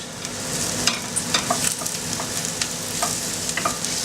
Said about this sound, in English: This needs cooking out for 2 or 3 minutes so that the mushrooms and the shallots are soft